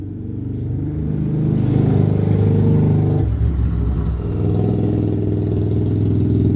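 A Honda 400EX ATV engine rides around nearby, a steady mid-pitched drone that swells and shifts as the quad moves, loud and continuous throughout with no talking.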